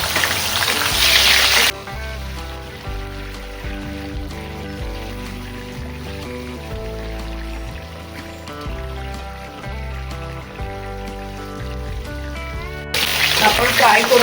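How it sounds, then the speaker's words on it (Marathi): Green, red and yellow capsicum sizzling in a pan for a dhaba-style mushroom masala, with loud frying hiss at the start and end and background music covering the middle. "आपण फ्राय करून घेऊया शिमला मिरची"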